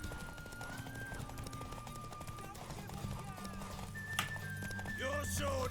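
Horse hooves clip-clop at a steady gallop during a horse race in The Witcher 3, running under continuous game sounds and music with voices talking over it.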